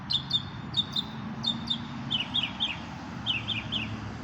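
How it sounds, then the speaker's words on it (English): Several birds chirp and tweet in short repeated bursts over a low outdoor rumble, with calls coming from different spots at moderate distance. "the birds that are singing out here at the park where I'm at"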